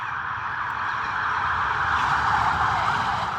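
A passing police car's siren wails loudly and steadily, swelling slightly as it nears, over low rumbling traffic noise, with no voices heard.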